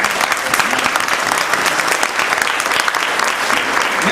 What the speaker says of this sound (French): on peut s'applaudir tous ensemble, c'est important